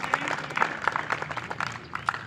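An indoor audience gives a brief burst of scattered clapping to welcome a newly announced district president at a gathering, the applause moderate and uneven, with faint voices underneath.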